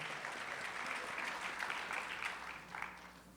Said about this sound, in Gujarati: એમને એકવાર જોરદાર તાળીઓથી વધાવો.